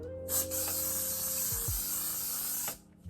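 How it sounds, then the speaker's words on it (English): A fine aerosol mist of makeup setting spray hisses steadily for a few seconds close by, sprayed onto a face, with faint mechanical clicks at the start and end of the spray. "I'm gonna spray this because I want my face to last"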